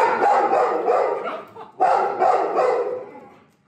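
Dogs at a rescue project for dogs found in very poor condition, barking loudly in two close bursts of several rapid barks each, separated by a short pause.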